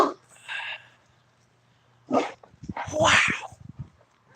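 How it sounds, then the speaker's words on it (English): A large dog barks outdoors during a walk, giving a few separate loud woofs with pauses in between, while a person's voice is heard nearby. "This dog is huge."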